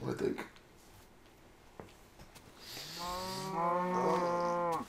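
Cows moo in the Minecraft video game, a drawn-out bovine call swelling over the last two seconds after a quiet stretch with a few soft clicks; a voice speaks briefly early on.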